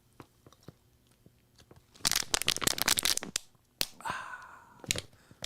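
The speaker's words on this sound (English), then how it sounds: "that annoying drinking from a water bottle" Someone drinks from a plastic water bottle close to the microphone, with sharp crinkling and crunching of the plastic in quick irregular bursts, then a short pause and more crinkles.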